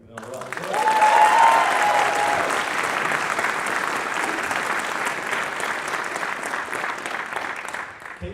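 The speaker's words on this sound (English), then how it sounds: "we'll give them a round of applause" A concert audience breaks into sustained applause after a choir performance, many hands clapping together in a dense, steady roar that holds for several seconds.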